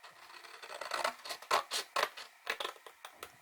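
Scissors cutting through a paper piece for a steampunk album, a quiet run of crisp snips and rustles speeding up into rhythmic clusters, close and soft, no speech.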